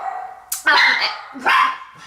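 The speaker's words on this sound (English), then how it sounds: "that's what the dogs are barking at" Dogs barking at neighbors in a backyard, two sharp close yapping barks with a high yip between them, mixed with a voice talking.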